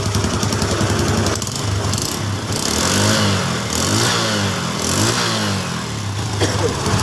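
A Yamaha Jupiter Z motorcycle engine runs with its battery removed, a loud, close, rattling idle with uneven rhythm and slight revs that continues throughout without speech.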